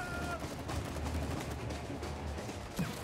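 Fireworks burst in a video game as a dense, continuous crackle of pops, fairly soft and steady throughout with no voices over it.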